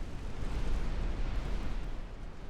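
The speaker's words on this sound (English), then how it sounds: "Here come the rest of the torpedoes. I take 2 on the stern." Torpedoes striking a ship's stern in a naval video game, a deep, rumbling explosion that swells and rolls on for a couple of seconds, loud and low-pitched with no talking.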